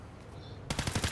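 A burst of rapid gunfire in the Fortnite video game, a quick string of loud shots breaking in suddenly after a brief quieter stretch.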